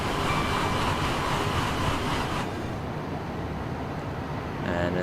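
An IET train passing in Train Simulator on the East Coast Main Line, a dense, loud rumbling rush that drops in intensity midway, steady with no clear voice.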